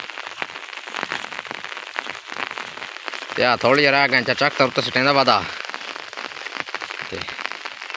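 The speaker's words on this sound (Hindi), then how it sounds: "सवादी बारिश लगी हुई है" Steady rain patters on a surface throughout a village farm setting, with a voice speaking over it for a couple of seconds midway.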